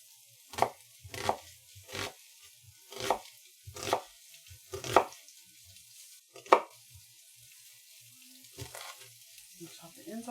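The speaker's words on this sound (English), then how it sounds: "Chop this up really quick." A knife chops food on a cutting board in a steady run of about eight firm thuds, then a few slower, scattered strokes, close and clear with faint background noise.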